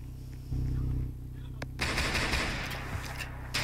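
Gunfire in the Roblox game Brookhaven, a few sharp bursts of shots mixed with game sound effects and a busy background, moderately loud and close.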